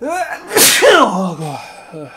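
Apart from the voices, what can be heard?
sneeze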